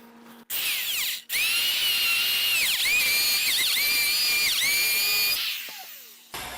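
A router cuts a dado across a wooden board with a loud, high whine that dips and rises as the bit bites the wood, then spins down at the end. There is no talk.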